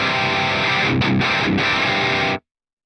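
An SC245 electric guitar played through a BOSS GT-1000 with chunky distortion, a thick sustained chord with two quick chugging accents before it cuts off abruptly into silence; loud, close and dry.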